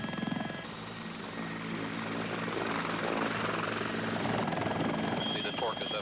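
Helicopter engine and rotor rising in power for takeoff, a steady loud whine and thrum that builds over several seconds with a voice speaking over it.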